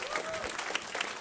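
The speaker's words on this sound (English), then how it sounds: "Give her a round of applause." Audience applause at a climate action panel event on food waste, a brief burst of dense clapping over a faint murmur of voices.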